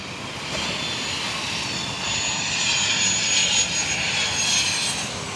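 A propeller aircraft drones overhead at a beach, its engine roar swelling slightly as it passes, steady and moderately loud against open outdoor air.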